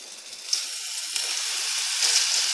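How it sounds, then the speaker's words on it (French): Pancake batter ladled into a hot pancake pan sizzles with a steady, bright hiss that holds and swells slightly, with no talking. "avec une louche, on va prendre un peu de pâte et là, tout simplement, la verser dans la poêle à pancakes"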